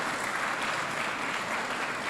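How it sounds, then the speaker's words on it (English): An audience claps through a school's 25th anniversary celebration at Waterloo Secondary School, a dense, steady wash of many hands filling the hall at even volume, with no voices over it. "Let's applaud that."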